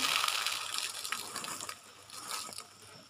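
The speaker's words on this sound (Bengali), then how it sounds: "ডালগুলোকে আমি তুলে নিচ্ছি।" Washed red lentils being scooped out of water in a home kitchen, with wet sloshing, dripping and light grainy rattles in irregular bursts, close and moderately loud.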